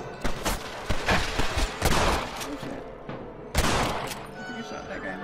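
Rapid gunfire bursts in the Western video game Red Dead Redemption, a string of sharp shots over roughly five seconds with a heavier volley near the end, mixed with game noise and occasional talk.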